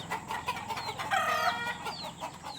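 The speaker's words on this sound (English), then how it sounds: "This is our new chicks." A new batch of young chickens clucks and chirps at close range, with short repeated peeps and one rising call near the middle, and no talking.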